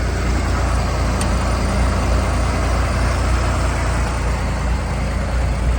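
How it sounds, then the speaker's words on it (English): A 1965 Chevrolet Corvair Monza convertible's 110 horsepower engine runs steadily, a constant close rumbling drone with no pauses. "Nice running 110 horsepower engine."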